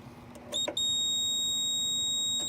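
A multimeter's continuity beeper sounds as probes test a Goodman gas pack compressor winding for a short to ground: a brief chirp, then a steady, loud, high tone held for about two seconds before cutting off.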